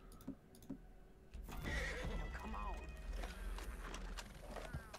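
A horse in the video game Red Dead Redemption 2 lets out a loud, close whinny after a short lull, set among clopping hooves, mechanical clicks and other game sounds, with a voice heard faintly.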